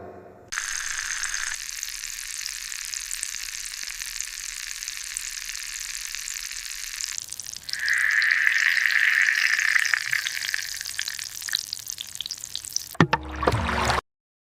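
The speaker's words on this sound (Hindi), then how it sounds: "एक तवे पर सरसों का तेल चढ़ा दिया है और तेल चढ़ाने के बाद फिर उन पर वो पीस डालने लगी है ताकि उनके पकोड़े बन सके।" Fish pakoras sizzle in mustard oil on a tawa, a steady frying hiss that swells louder partway through with a brighter crackle, then ends in a brief clatter; no one speaks.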